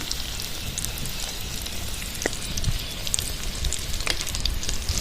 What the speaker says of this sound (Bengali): তেলটা গরম হয়ে গেছে এবার ফিশ ফিঙ্গারগুলো ভেজে নেব